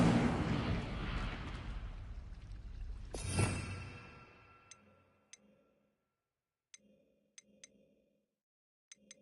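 Casting the Incendio fire spell in the Hogwarts Legacy video game sets off a loud whooshing burst that rumbles and flares, peaks with a sharp blast and then fades to quiet. Sparse crisp ticks and short effects follow.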